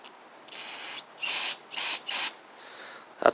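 Carb cleaner sprayed onto a Briggs and Stratton OHV engine on a Bolens push mower: one short hiss, then three longer bursts in a row, close and loud, ending with a brief clatter.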